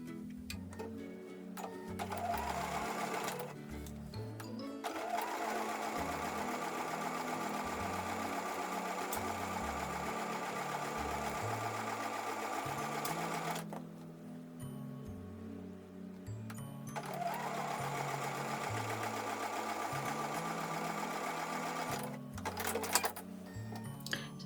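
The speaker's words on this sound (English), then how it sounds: "I'm going to take that over to the sewing machine and sew with a 1/4 inch seam." A sewing machine stitching a quarter-inch seam on a quilt block, running in steady mechanical bursts with short pauses between runs, close and fairly loud.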